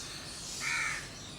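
A crow caws once from a short distance over a steady outdoor hiss, a harsh single call standing out briefly near a rooftop on a hot sunny day.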